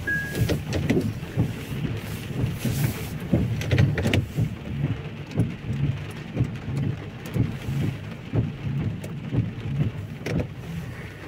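Heavy rain falls outdoors near a shopping centre in Lewsey Farm, Luton, UK, a dense steady hiss with a low rumbling undertone and pulsing swells throughout, with no speech.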